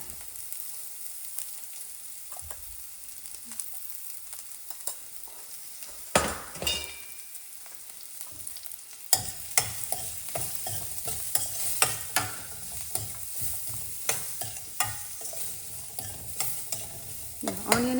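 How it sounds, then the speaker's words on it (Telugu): Onions, with a pinch of turmeric, sizzle in a pan in a steady close-up hiss, and a spoon stirs and scrapes through them repeatedly, growing busier midway; no voices are heard. "ఆనియన్ కొంచెం బాగా వేగనిద్దాం"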